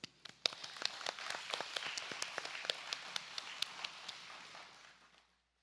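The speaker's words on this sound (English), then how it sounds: "So can we give a hand of applause to the leaders?" A small church congregation claps for its leaders in a short round of applause, with distinct sharp claps standing out in a steady patter before it fades to silence.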